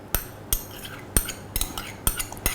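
A spoon stirs Sri Lankan style beef curry in a pot, clinking against the sides in about six sharp, evenly spaced knocks between soft scraping, close and fairly loud.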